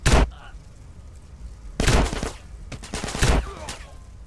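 Gunfire in the video game GTA San Andreas: three loud bursts of shots, each followed by a short quieter stretch, with the sharp blasts spread over a few seconds.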